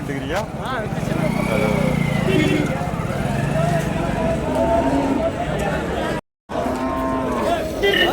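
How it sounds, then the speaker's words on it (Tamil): Dairy cows low and moo repeatedly at the Vaniyambadi cattle market in a busy, noisy crowd, with people talking and engine noise mixed throughout. "கறவை மாடுங்க கறவை மாடுங்க நிறைய வரும்"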